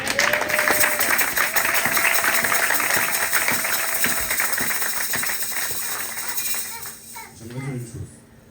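A church congregation at a Sunday service claps and cheers in praise, dense continuous applause mixed with voices and shouts that gradually thins out toward the end.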